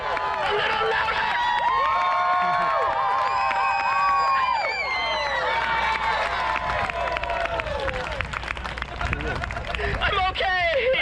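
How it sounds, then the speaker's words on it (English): A festival crowd at the Tampa Bay Renaissance Festival responds to a juggling performance with loud, continuous cheering, whoops and clapping. Dense shouts and applause rise together throughout. "burst into uproarious applause"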